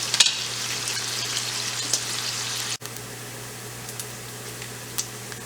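Brussels sprouts and bacon fry in a pan with a steady, close hissing sizzle, crackling pops scattered throughout and a brief clatter of stirring.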